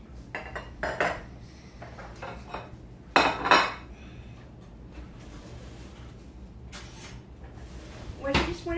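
A spoon scrapes and knocks against a metal baking tin, popping out baked biscuit-dough pizza cups filled with meat, with scattered clinks and clatters between quiet gaps; a person talks over it.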